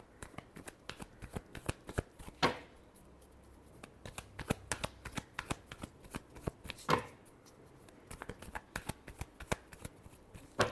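Tarot cards being shuffled by hand during a Scorpio reading: quick, crisp riffling flicks in irregular bursts, with two louder sweeping riffles standing out, close and quiet with no voices.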